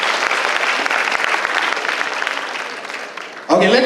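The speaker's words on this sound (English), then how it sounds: "Let's clap for all our partners and sponsors." A seated audience claps for partners and sponsors at an event, dense, loud, steady applause that gradually tapers before a voice cuts in at the very end.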